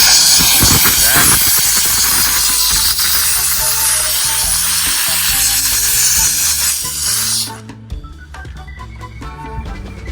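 A steam cleaner hisses loudly and steadily while cleaning a car interior's buttons and surfaces, a broad close-up rushing jet that cuts off near the end, leaving faint tapping and handling noise.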